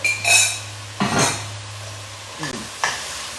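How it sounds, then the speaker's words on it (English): Cooked Italian sausage pieces and their juices tipped back into a pot of zucchini soup, giving a few close stirring and scraping bursts against the pot, separated by short pauses over a steady low hum. "now we're going to throw our sausage back in with all its juices"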